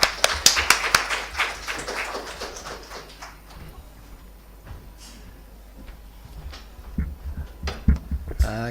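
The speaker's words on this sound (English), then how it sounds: "Can I have a round of applause for Sam," Brief burst of audience clapping for a speaker at a conference session starts the clip and quickly fades, followed by quiet room noise and a few scattered sounds near the end.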